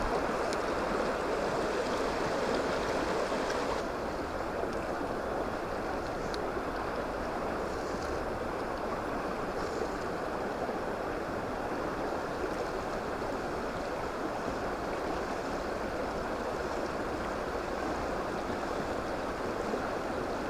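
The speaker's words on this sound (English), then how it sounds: "Here we go, the Chéran River." Steady, broadband rush of the Chéran River flowing in Savoie, France, a continuous water wash with no voices, close and fairly loud throughout.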